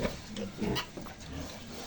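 Young piglets grunt softly in a pen, a few short low grunts close by against quiet background noise.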